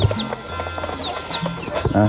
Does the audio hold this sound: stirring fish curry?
no